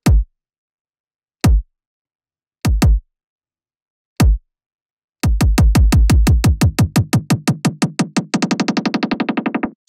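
Filtered kick drum for jump up drum and bass programmed in FL Studio, four sparse punchy hits, then a rapid accelerating roll of kicks that tightens into a fast buzzing stutter, loud and dry.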